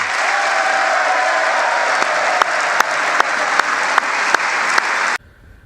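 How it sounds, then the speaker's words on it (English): A State of the Union audience breaks into sustained applause that fills the room, dense and steady with a few sharp louder claps near the end, before cutting off abruptly. "Couple Democrats got up there to clap."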